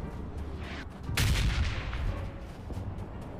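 Gunfire in a video game: a loud burst of shots erupts partway through over a rumbling background, then fades back to a lower, steady din, with no voices.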